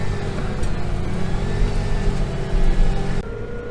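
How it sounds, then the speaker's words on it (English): A tractor ploughing a field's headland row with heavy wheel slip, its engine droning loudly and steadily close by, with a slight drop in level near the end. "I'm just ploughing this other field, the second field, this last row on the headland here."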